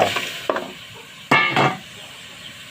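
Chicken sizzles and rustles in a pan with pounded shallots, with a couple of sharp stirring scrapes and clatters in between.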